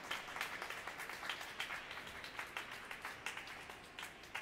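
Audience applause after a string quartet performance at an atrium concert, faint steady clapping from a modest crowd with individual claps distinguishable throughout.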